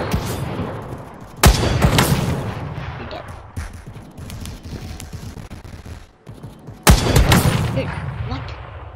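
Krunker.io game audio carries rapid gunfire bursts and two heavy RPG explosion booms that decay into rumbling tails, with rattling shots between them and a voice faintly underneath.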